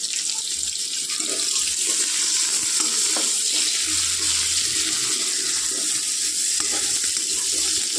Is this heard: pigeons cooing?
no